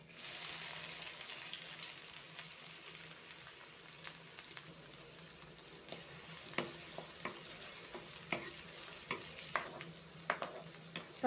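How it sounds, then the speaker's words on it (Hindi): Cumin seeds and chopped onion sizzle steadily in hot oil left from frying taro, a continuous bright hiss with occasional stirring clicks and spatters, close and alone without talk. "थोड़ा सा जीरा ऐड कर देंगे इसी तेल पे। ये प्याज भी ऐड कर देंगे।"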